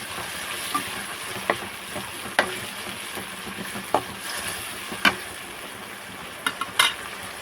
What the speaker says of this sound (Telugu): టమాటోస్ కొంచెం నూనెలో మగ్గాయండి